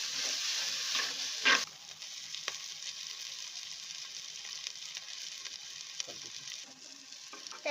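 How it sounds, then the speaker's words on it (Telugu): Onions frying with ginger garlic paste and salt for pot biryani, giving a bright steady sizzle with a few stirring knocks, loudest in the first two seconds and then settling into a calmer hiss. "ఆనియన్స్ మగ్గిన తర్వాత అల్లం వెల్లుల్లి పేస్ట్ వేయాలి. తర్వాత సాల్ట్ వేసుకోవాలి. మొత్తం అంతా మిక్స్ చేసుకోవాలి."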